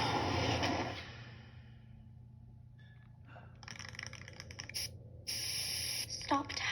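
A spray paint can hisses loudly against tunnel walls in one sustained burst of about a second, followed by quieter scattered rustles and clicks.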